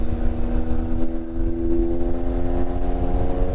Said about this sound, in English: Listen to that exhaust noise, that's absolutely beautiful.